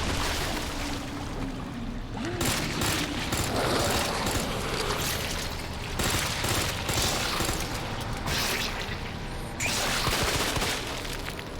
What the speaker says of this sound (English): Let's shoot it at range.